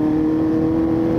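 A Yamaha 400cc inline four-cylinder motorcycle engine hums at a steady rev, a smooth, continuous buzzy drone held at an even pitch for just over a second, close and fairly loud.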